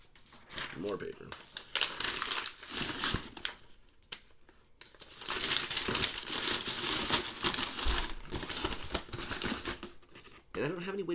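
More filler paper crumpled and packed around shoes inside a shipping box, making dense, close crinkling and rustling that runs almost continuously in loud bursts with brief lulls.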